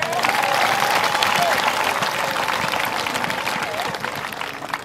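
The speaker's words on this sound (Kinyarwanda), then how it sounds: "Ongera ukomera Imana amashyi." A congregation gives God a second round of applause: steady, loud massed clapping with some crowd voices, fading slightly at the end.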